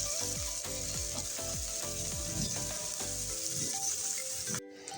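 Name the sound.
onions frying in oil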